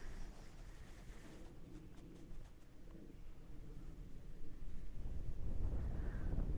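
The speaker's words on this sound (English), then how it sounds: "The wind's picking up some" Wind buffeting a microphone on a FishSUP126 paddle board out on the water, a steady rushing rumble that grows louder and heavier toward the end, with faint bird-like chirps early on.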